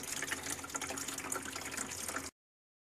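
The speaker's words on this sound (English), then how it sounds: "The water is filled and it's draining out the side holes for the drain." Water splashes and trickles steadily out of the side drain holes of a filled Alpha kayak bait tank, a continuous gushing that stays even and then cuts off abruptly, with no voices.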